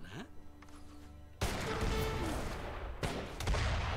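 Cannon and musket fire in an Age of Empires III 3v3 battle, a dense, loud barrage of overlapping blasts and crackling volleys that bursts in abruptly after a quieter stretch and keeps rolling with fresh surges.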